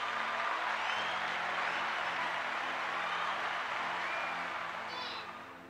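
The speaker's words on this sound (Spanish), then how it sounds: "Denle un aplauso al Padre" A church congregation applauds, a dense, sustained wash of many hands clapping that holds steady, then fades out toward the end, with some voices mixed in.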